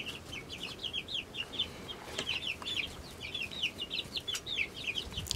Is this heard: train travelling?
no